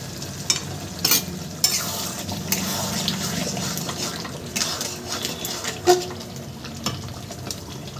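Red mutton curry simmering and bubbling in a pan while being stirred, a steady close-up wet sizzle with scattered scraping and clinking of the spoon throughout, no voices.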